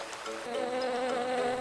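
Buzzing insects, probably bees, in an outdoor setting, a steady wavering drone that swells slightly over a short stretch with no talk.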